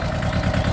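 A 20 hp Mahindra mini tractor engine running in a green field, with a close, steady low chugging idle and an even pulsing rhythm, no talk.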